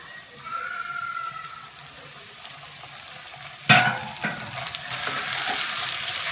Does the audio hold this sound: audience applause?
no